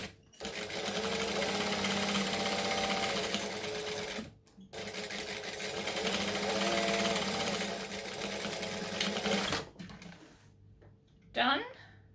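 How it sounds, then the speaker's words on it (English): A sewing machine top stitching along the very edge of a Raggabrash sewing project hums in two long continuous runs separated by a brief pause, loud and close. "I'm just going to top stitch around the very,"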